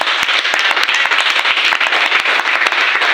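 A church congregation claps together in acclaim of the Lord, a dense, steady round of applause from many hands, loud and close, lasting the whole moment without speech.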